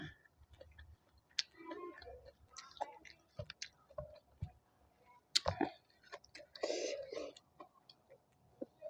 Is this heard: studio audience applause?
no